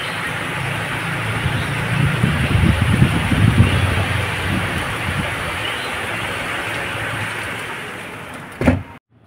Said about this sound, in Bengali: জোর বৃষ্টি নেমেছে, দেখো।